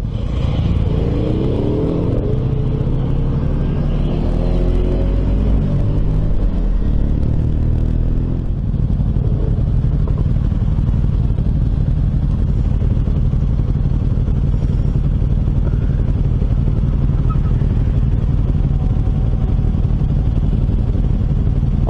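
A loud, deep engine exhaust rumbles steadily for a long stretch, with revving swells early on and constant low droning throughout.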